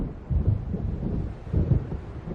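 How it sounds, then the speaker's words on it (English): Thunder from an approaching storm rolls through the video game Alan Wake, low rumbling swells that rise and fade twice over steady wind-like noise, with no voices. "It seems there's a storm coming."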